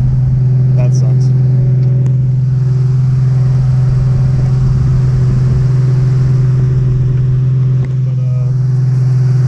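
A Nissan 350Z idles loudly with its air conditioning running, a steady droning hum close up that holds level throughout, while a person speaks briefly over it.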